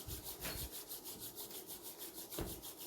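Hands rubbed back and forth with massage oil, a faint, soft rhythmic swishing friction repeating in quick even strokes, close and quiet with no talk.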